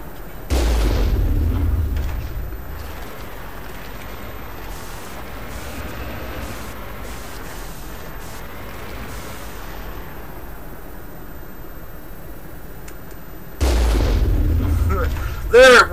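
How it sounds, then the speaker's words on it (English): Cannon fire in the video game Mass Effect: a heavy booming blast at the start and another near the end, with a low rolling rumble sustained between them. "I totally forgot about the cannon,"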